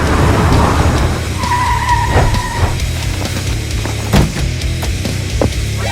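A car drives past on a road, its engine loud and close with a brief tire squeal midway, and no one speaks.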